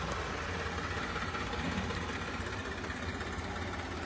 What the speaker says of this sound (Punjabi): ਟਰੈਕਟਰ ਆ ਗਿਆ ਇਹ ਵੀ ਨੀਰਾ ਪੱਠਾ ਲੈ ਕੇ ਆਉਂਦਾ ਪਹੁੰਚ ਗਿਆ